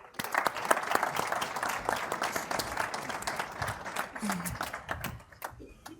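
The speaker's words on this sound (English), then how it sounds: "Ladies and gentlemen, please give him a round of applause." Audience at an Investec panel discussion clapping in a sustained, moderately distant round of applause with some crowd murmur beneath, gradually thinning toward the end.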